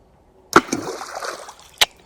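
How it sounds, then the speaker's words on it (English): A stone thrown into a shallow river in the Altai Mountains lands with a sharp click and short splash, followed by brief trickling and a second faint click, near and quiet. "I'll throw a stone, let's see if we hear something."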